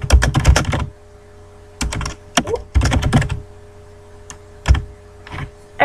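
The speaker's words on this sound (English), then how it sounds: "Let's type in English again." Bursts of typing on a computer keyboard, fast clusters of key clicks in short runs separated by pauses, close and clear with no talking.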